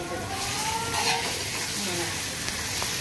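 Chopped onion softening in a pan makes a continuous close sizzle and crackle, with light stirring noises and a brief clink of cookware partway through.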